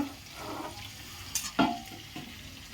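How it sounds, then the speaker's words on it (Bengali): Spices fry in a pan for katla fish kalia, a soft sizzle under several clattering stirs of a spoon against metal, close and moderate in level. "মশলা কষাচ্ছি"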